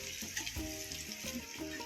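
Boiled potatoes tossed into a hot pan with turmeric, sizzling and frying in a steady, fairly quiet hiss with light stirring.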